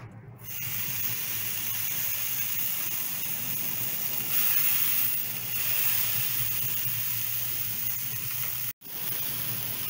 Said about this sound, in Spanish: Vamos a poner nuestra carne a asar